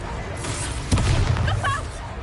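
Disarming spell cast in the video game Hogwarts Legacy, a sudden magical burst with a low boom that swells and rings out briefly over a steady ambient game backdrop.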